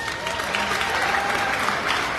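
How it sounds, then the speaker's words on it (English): A crowd at an outdoor Fleadh Cheoil music festival stage in Mullingar applauds the main sponsor, a credit union. The clapping is a continuous, even wash of many hands, fairly close and steady throughout, with no talking over it. "Big round of applause for them."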